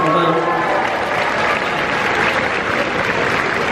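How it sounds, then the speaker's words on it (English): A convention crowd at San Diego Comic-Con bursts into loud, dense applause that holds steady throughout, close and enveloping, with some cheering voices mixed in. "Give yourselves a round of applause."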